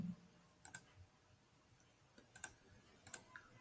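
Sharp computer mouse clicks while working in GoodX dental software, a handful of quiet isolated taps in small pairs spread over a few seconds with faint room noise between.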